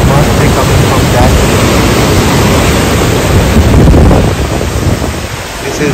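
A loud, steady rush of falling water from Triberg waterfall in the Black Forest, Germany, fills the scene, a dense broadband roar with no breaks, close by and unchanging.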